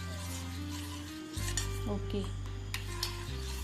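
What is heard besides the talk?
stirring together milk and beaten egg mixtures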